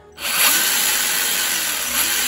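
Small electric motor of an RGT EX86190 1/10-scale RC rescue crawler running steadily in its first speed gear, a loud continuous high whine close by with no talking.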